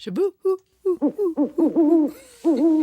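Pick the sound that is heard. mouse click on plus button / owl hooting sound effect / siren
owl hooting sound effect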